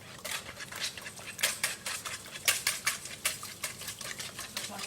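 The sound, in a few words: whisking eggs together in a bowl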